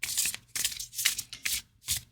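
Tarot cards from an oversized cozy witch deck riffled and shuffled in four quick rustling bursts with short pauses between, close and moderately loud.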